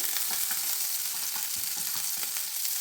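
Butter melts in a pan over a low flame for a creamy cheesy pasta, giving a steady bright sizzle and crackle with small irregular pops, close and even throughout, with no talking.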